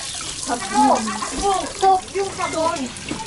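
Dishes are washed with soap under running water in a home kitchen in the Philippines. Splashing and running water sit close under conversational voices that dominate the short stretch.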